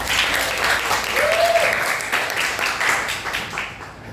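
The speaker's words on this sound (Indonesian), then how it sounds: "boleh tepuk tangan untuk semua ya" A crowd of high school students applauds with steady, dense clapping that fills the whole stretch, fairly close and consistent in loudness.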